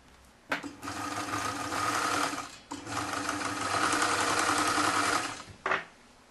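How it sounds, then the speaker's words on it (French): A sewing machine stitches fabric for a soft neck warmer. It starts with a sharp thump, then runs fast and steady at close range in two long bursts separated by a short pause, and stops with a final clunk. "il faut coudre d'ici jusque là, jusqu'à ton premier cran"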